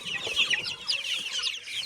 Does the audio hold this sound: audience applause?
no